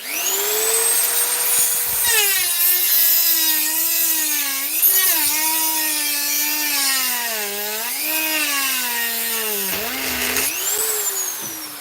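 A handheld Dremel rotary tool grinds steadily, its high motor whine dipping and rising in pitch as it bites into the material under load, then easing off near the end.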